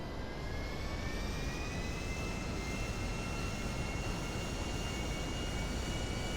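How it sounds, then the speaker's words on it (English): A jet engine in GTA 5 roars as a steady, loud, broadband rush with a faint high whine running through it, continuous with no talk. "I would get in the jet engine and I would fly this thing"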